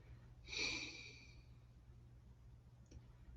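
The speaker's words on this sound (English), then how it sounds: "So we breathe out, we don't mind the sound." A single audible exhalation during a yoga breathing exercise, a breathy, soft rush of air lasting about a second, close to the microphone, followed by quiet room tone.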